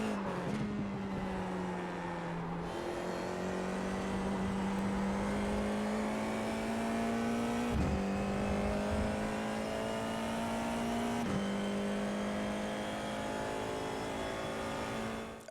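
FIA F4 race car in a racing video game at Rudskogen, engine rising steadily in pitch under hard acceleration with two quick gear shifts, loud and continuous, no talk.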